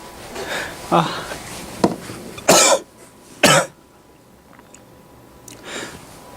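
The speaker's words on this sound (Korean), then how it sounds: "잠깐 재채기 한 번만" A single sharp sneeze bursts out loudly and alone during a Korean math lecture, followed by a second similar burst a moment later, with quieter rustles and faint sounds around it.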